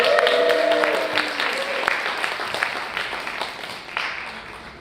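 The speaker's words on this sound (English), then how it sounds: "Maybe a round of applause, encouragement." Audience applause at a youth jamboree event in Wrocław, a steady spread of clapping from a crowd lasting several seconds, fairly loud with scattered voices mixed in.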